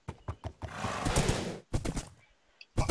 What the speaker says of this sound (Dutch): Paardje, waarom zeg je nee?